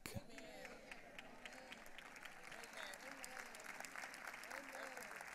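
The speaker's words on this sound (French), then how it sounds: "Certains applaudissent et d'autres pas." Moderate applause from part of a church audience at a sermon, a continuous patter of hands with some crowd murmur and a voice over it throughout.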